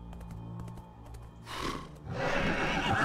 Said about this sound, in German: Okay, das Pferd dreht durch.